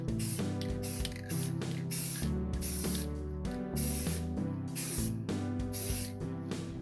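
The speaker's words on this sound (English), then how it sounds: "just spray paint this" A spray paint can hisses out in repeated short bursts onto a disc for ceramic windchimes, with tonal background music running underneath.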